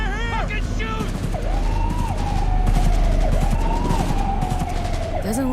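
Gunfire crackles through a shootout in the video game Cyberpunk 2077, sustained bursts of shots mixed with a wailing police siren that rises and falls, all steady and loud while voices speak over the action.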